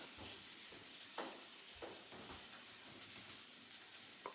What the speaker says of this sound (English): I'm making lunch right now. That's what you can hear sizzling.